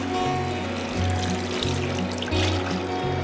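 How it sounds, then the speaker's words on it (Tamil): Cornstarch water poured into a halwa mixture in a pan, giving a continuous steady liquid pour and splash throughout, fairly loud and close, with a low background hum. "நம்ம கலக்கி வச்சுருந்த கார்ன்ஸ்டார்ச் தண்ணியை நம்ம இதில் ஊற்றிடலாம்."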